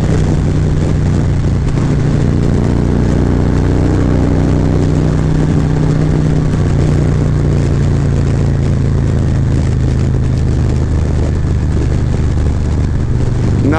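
A Harley-style motorcycle fitted with a Screaming Eagle cam pulls hard in sixth gear, a steady, loud, continuous engine drone with strong low harmonics and wind noise throughout, no voices.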